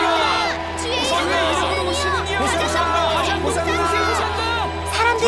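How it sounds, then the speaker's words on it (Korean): A crowd of people shouts praise to Jesus, with cheering voices and children calling out together in a steady, loud babble throughout, as in a Palm Sunday Hosanna scene. "사람들이 예수님을 외치고 있어요."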